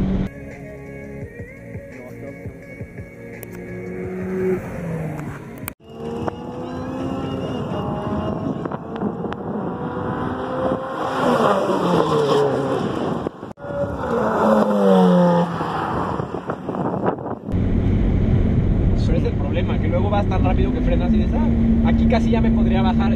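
A Ferrari on a race track accelerates hard, its engine rising through the gears and dropping again with loud wind rush, while people talk over the noise.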